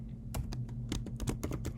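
A computer keyboard being typed on in short irregular bursts of crisp clicks, close and fairly quiet, with no one speaking.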